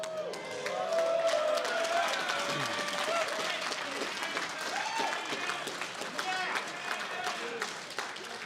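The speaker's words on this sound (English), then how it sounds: "It's got the biggest applause." Sustained applause from a large audience at a Warmachine tabletop game keynote, a dense steady wash of clapping with some cheering and crowd murmur holding throughout.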